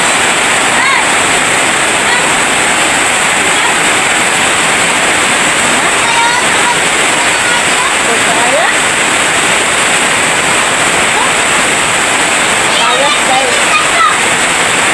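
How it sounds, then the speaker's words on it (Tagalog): Dense, constant roar of heavy rain pouring down close by, loud and unbroken throughout. "Grabe kapusok ulan."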